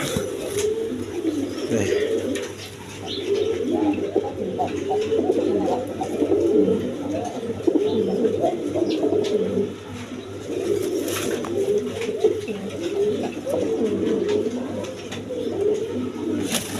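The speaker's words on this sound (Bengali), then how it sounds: "এখানে আরেক পেয়ার কবুতর আছে দেখেন একদম বিগ সাইজের আপনার রাজগোল্লা কবুতর" Big Raj Golla pigeons coo continuously and fairly close, a steady overlapping murmur of low throaty calls with a few faint voices in the background.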